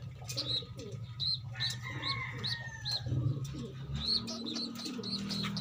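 Pigeons coo close by in low, rolling, repeated calls, mixed with higher chirps and twittering from other birds, fairly faint with no talk.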